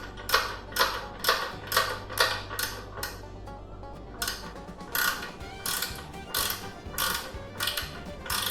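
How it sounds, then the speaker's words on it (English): A flex head ratchet wrench tightens a horn nut on a Harley-Davidson Street Glide, giving repeated rapid ratcheting clicks in short rhythmic strokes, close and clear with brief pauses between sets. "that right there is where that flex head ratchet wrench helps"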